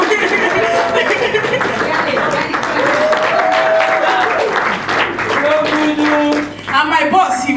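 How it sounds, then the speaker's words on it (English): Loud, sustained audience applause at a Nigerian movie premiere, steady crowd clapping with voices and laughter mixed in. "Please, a round of applause for Judith Aldo and Captain Dexter."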